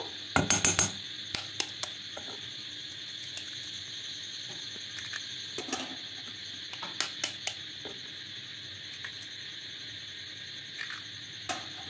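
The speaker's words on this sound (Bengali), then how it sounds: "দেখুন হ্যান্ড উইচে করে খুব ভালো করে এটাকে মিশিয়ে নিয়েছি" A hand whisk stirs egg into an oats omelette batter, with a quick burst of clinking metal strokes at the start and then scattered light taps and scrapes against the bowl, close and fairly quiet, with no talking.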